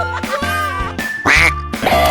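A duck quacks in loud, nasal bursts over a busy cartoon soundtrack, several calls in a row with the strongest one near the middle, standing clear over the music.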